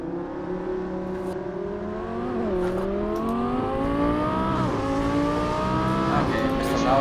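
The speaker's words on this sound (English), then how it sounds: "I just cannot hear anything with the Audi next to me" Audi R8 Performance engine in the Assetto Corsa racing game, a loud sustained drone with rising and falling pitch as it revs and shifts through gears, with another car audible nearby and some talking mixed in.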